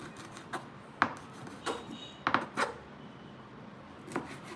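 A knife strikes a cutting board in a handful of irregular sharp chops, cutting loitta fish into small pieces, close and distinct, with quiet pauses between them.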